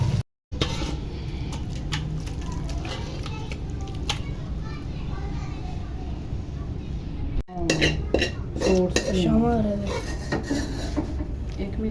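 Boneless chicken karahi is served into a handi pot, with clinks and scrapes of a spoon and metal cookware over steady background noise, while people talk and children's voices come through.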